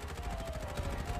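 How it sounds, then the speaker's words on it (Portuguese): Rapid, rhythmic gunfire rattles continuously through the brief moment in the video game Farlight 84, mid-level in loudness, with a faint steady tone running underneath. "Lado esquerdo, escutando tiro."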